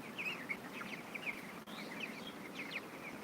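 Chickens on a poultry farm of two thousand birds make faint, repeated high chirps and cheeps over a soft steady background murmur.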